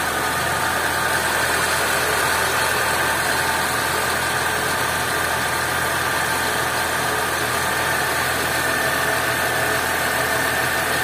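A Lada Niva engine idles with a newly installed module, holding a loud, even, steady running rumble with a persistent mid-pitched drone and no stumbles, close up and alone without talk.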